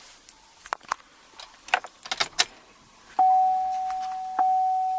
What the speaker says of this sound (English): Turn key to the run position.